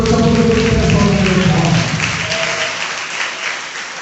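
A Sunday worship congregation applauds loudly, a dense wash of clapping that holds steady and then eases slightly toward the end, with voices faintly mixed in.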